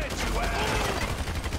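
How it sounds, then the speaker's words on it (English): Rapid gunfire in Grand Theft Auto V, a dense, loud rattle of shots crackling without pause, with a voice talking over it. "So I guess we're shooting our way out of here!"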